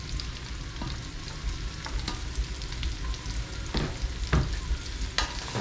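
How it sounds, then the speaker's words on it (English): Vegetables cooking in butter in a pot with jellyfish soup, sizzling steadily while a spoon stirs, scraping and knocking against the pot in a few distinct strokes. "So give it a nice little stir."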